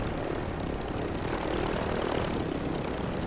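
A helicopter in Call of Duty Warzone thrums with a steady rotor and engine drone, moderately loud and continuous, with no one speaking over it.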